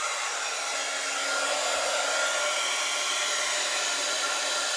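A heat embossing tool blows hot air in a continuous, loud, even whoosh close by, heard alone while it warms up for use on vellum.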